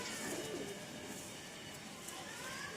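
A green Malbai pigeon coos softly nearby, low rolling calls repeating over faint background noise.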